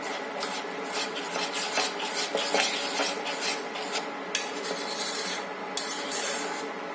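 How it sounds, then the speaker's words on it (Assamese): Continuous rubbing and scraping of a spoon stirring vanilla custard thickened with flour in a pot over gentle heat, with a few sharp clinks against the metal and no talk. "মই এনেকৈ লৰাই আছোঁ"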